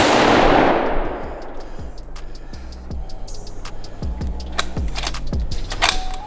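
A single loud gunshot fired at a bear while hunting in the mountains, a sharp blast at the start that rings out and fades, followed by a run of light metallic ticks and clinks.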